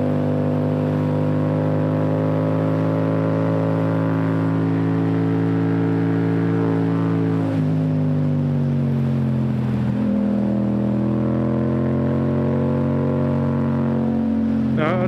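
Yamaha MT-07 motorcycle engine while riding, a loud close steady drone whose pitch climbs gradually, drops sharply at a gear change, then climbs again, with wind rush underneath.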